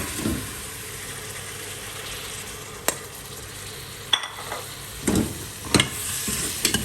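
Beef sizzles steadily in a hot pan, with a few sharp scrapes and clinks of a spoon stirring it, fairly quiet and close.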